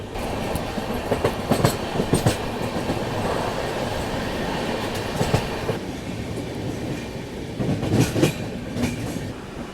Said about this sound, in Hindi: ट्रेन यहाँ पे मात्र 5 मिनट रुकी, डिपार्चर अपना यहाँ से हो गया